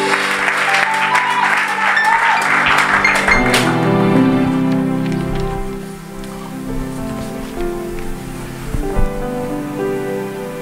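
Church congregation applauding and cheering together, a dense wash of clapping under sustained musical tones and voices, loud at first and settling somewhat softer toward the end.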